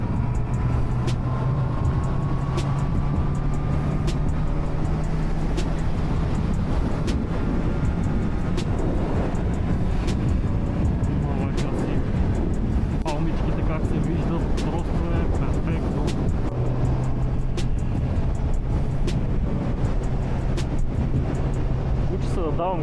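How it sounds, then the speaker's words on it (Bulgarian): A motorcycle engine roars at full throttle on a road trip toward the Greek sea, a loud sustained drone with heavy wind rush close to the rider, holding a steady pitch throughout. "Давам газ с цялата ръка,"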